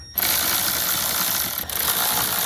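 Ratchet wrench clicking steadily while removing a 10mm-fastened MAP sensor from a turbocharged car engine, a close, continuous mechanical rasp with a brief break partway through and no talking.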